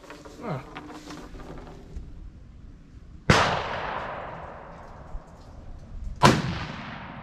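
Rifle shots at an outdoor shooting range while scopes are zeroed before a hunting trip in Virginia: two loud, sharp cracks about three seconds apart, each with a long ringing decay, after brief talk at the start.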